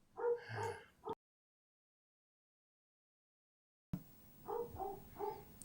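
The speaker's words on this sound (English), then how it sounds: "between the dog barking" A dog barks a few times nearby, short bursts at the start and again after a long silent gap, heard through a live online call.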